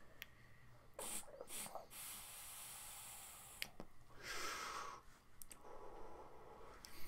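A Wotofo STNG mouth-to-lung rebuildable dripping atomizer set to 14 watts with the airflow fully open is puffed, giving soft airy hisses and breathy draws that come in quiet bursts.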